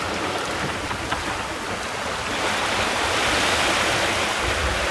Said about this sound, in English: Quite a bit of little white water around and the tide's going out.